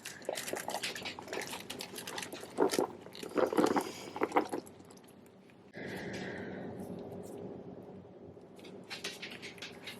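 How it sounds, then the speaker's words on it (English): Wet, squishy drained and rinsed beans tumble and slosh into a pan in a few bursts, then a softer hiss and scattered patter follow. "so I've drained and rinsed my beans, so I'm just gonna pour these in now."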